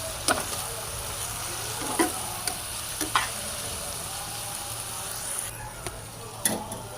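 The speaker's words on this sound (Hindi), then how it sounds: "इसी फ्राई पैन में हम आलू डालेंगे। इसे भी हम अच्छे से फ्राई कर लेंगे।" Potatoes fry in a frying pan with a steady, faint sizzle, broken by a few soft clicks and light stirring knocks; no one talks.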